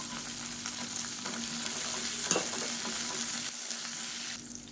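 About ten small onions and four garlic cloves sauté in a pan, giving a soft, steady sizzle with occasional light stirring scrapes, close but fairly quiet.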